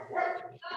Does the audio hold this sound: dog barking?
yes